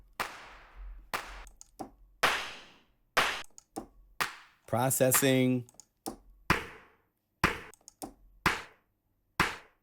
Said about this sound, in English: These are claps Airwave made.